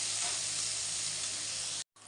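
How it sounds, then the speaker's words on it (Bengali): Capsicum and chopped ginger fry in a wok with a loud, steady sizzle that holds for nearly two seconds, cuts out briefly, then returns. "তো বন্ধুরা আমি ক্যাপসিকামটা দিয়ে দিয়েছি, তো ক্যাপসিকামটা এখন ভেজে নেব।"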